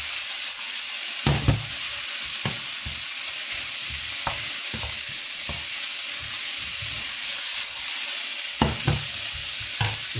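Bean sprouts and mixed vegetables stir-fry in a hot pan for a tofu burger with Thai vegetables, a continuous close sizzle broken by scattered sharp scrapes and clacks of a utensil tossing the food.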